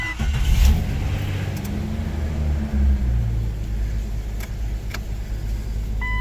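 A 2000 Chevrolet Express van engine turning over and revving after sitting for about two months, loud and close, with a couple of throttle surges over a steady idle rumble and a few sharp clicks.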